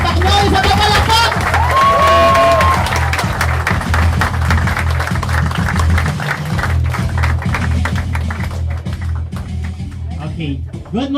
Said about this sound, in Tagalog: isa pa palakpak!